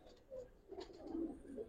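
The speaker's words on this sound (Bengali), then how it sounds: "দেখেন শাওন ভাই আমার কবুতর গুলো আপনি দেখেন" Giribaz pigeons coo softly in a few faint, low rolling calls close by, with no talk over them.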